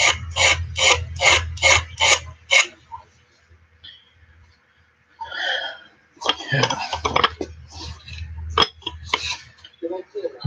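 Straight razor blade being hand-filed clean without power tools, a quick run of about six rhythmic rasping strokes up close, then quieter scraping and irregular rubbing strokes alongside brief talk.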